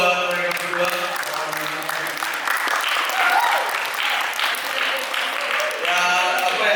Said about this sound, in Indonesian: Ya, tepuk tangan dong buat mereka berdua.